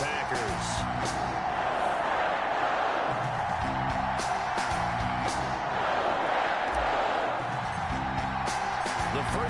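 A stadium crowd roars continuously in a Madden football video game before a Chicago Bears versus Green Bay Packers matchup, a loud steady wash of cheering under a commentator speaking.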